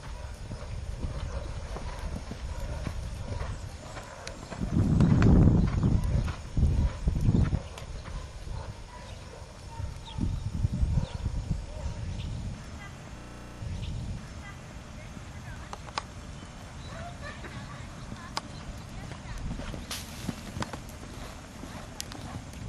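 Horse hooves clip-clop across an arena at a trot and canter, with heavier, louder hoofbeats bunching around the middle, and an instructor's voice talking over the hoofbeats at times.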